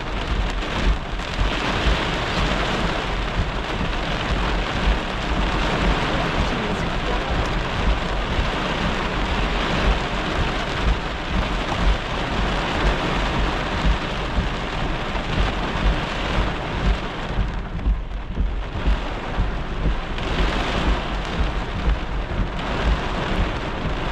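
Heavy rain pounds steadily during a violent thunderstorm in Maine, USA, a loud continuous roar with low rumbling beneath, lasting the whole stretch without voices.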